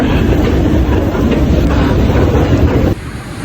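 A loud, steady rumble of a train arriving close by at a station, with rattling and wind buffeting, dropping off abruptly near the end.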